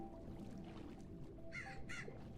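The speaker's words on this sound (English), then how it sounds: "I don't know where my crow is anymore." A crow in a Minecraft game caws twice in quick succession, the calls coming from a short way off over a low, steady background hum.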